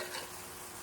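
Semi-steamed cauliflower is stirred into a sizzling beef and cheese casserole, giving a brief, steady, close-up scraping and frying hiss.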